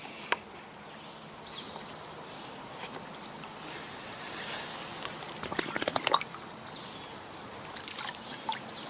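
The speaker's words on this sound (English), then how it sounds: "get that nice water in there." Water trickles and drips softly into a hydration pack's filter unit, a faint, intermittent splashing that stays quiet throughout with a few brief louder spurts.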